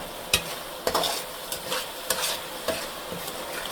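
Ginger and garlic paste sautéing in a pan gives a continuous soft sizzle, broken by regular scraping strokes of a spatula about every half second.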